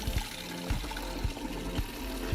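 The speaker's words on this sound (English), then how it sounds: "Alright, so you put some water in here first." Water poured into a container for mixing Soylent at a backcountry camp, a steady close splashing trickle with faint low thumps underneath.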